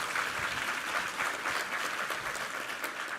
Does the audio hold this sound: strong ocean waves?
no